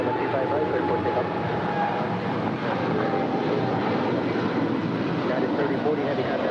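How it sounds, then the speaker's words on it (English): United Boeing 777-200ER airliner at LAX, a steady broad jet engine roar that holds loud and even throughout, with a faint voice mixed in underneath. "that is United 3040, heading to Houston. It's a 777-200ER"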